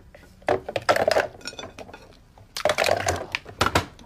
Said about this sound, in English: Fill your kettle up with water and cram in as many eggs as you can.